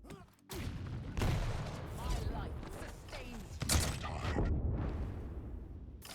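Shotgun blasts in a Quake match, sharp bangs and mechanical clatter amid dense game sounds, with a commentator talking over the action.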